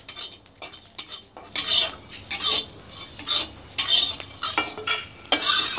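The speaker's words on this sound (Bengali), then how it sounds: "এই যে কড়াই গরম হয়ে গেছে, আর আমি এখন ভেজে নিচ্ছি মশলা" Spices fry in a hot wok (kadai) while a utensil stirs and scrapes against the metal, giving bursts of sizzling and clattering that come and go at close range, with no talk.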